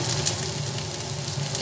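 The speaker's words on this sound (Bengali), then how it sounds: "বেগুনটা ভাজা হচ্ছে, সেই সময় এর মধ্যে 3টে কাঁচা লঙ্কা দিয়ে দিলাম।" Eggplant with three green chillies sizzles steadily in a hot pan, a constant close crackling hiss without pauses and no voices over it.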